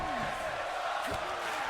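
Arena crowd noise from the WWE 2K24 wrestling video game during a match in Philadelphia, a steady loud roar of cheering that fills the whole short stretch without pause.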